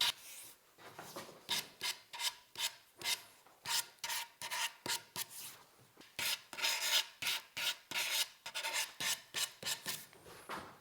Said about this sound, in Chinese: 刨完、削完之后，我们就用砂纸把它打磨光滑